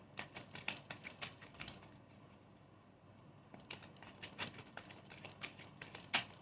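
Tarot cards are drawn and handled close up in a quiet room, giving soft irregular taps, slides and shuffling flicks in scattered bursts.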